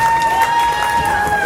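Audience at a comedy club answers with a short burst of applause and cheering, a steady crowd roar with clapping and whoops filling the room, fairly loud and continuous throughout.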